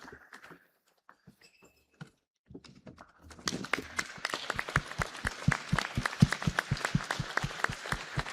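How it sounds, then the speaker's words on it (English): Audience applauding as a woman guest of honor walks to the podium at a conference, quiet at first, then brisk, rhythmic group clapping swelling in and continuing steadily. "A round of applause to our honorable guest of honor as she comes to the podium."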